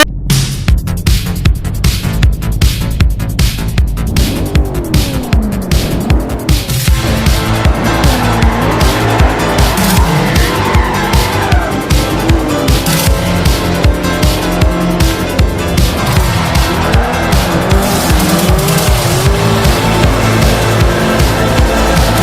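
Race car engines roar and tires squeal through a Forza Motorsport racing game, a loud, continuous run of revving and gear shifts punctuated by rapid rhythmic pulses, with no voices.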